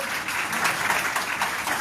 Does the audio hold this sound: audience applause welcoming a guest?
yes